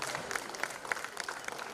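A small crowd at a hospitality and tourism academy ceremony gives brief, faint applause for a scholarship recipient, with scattered individual claps clearly separated.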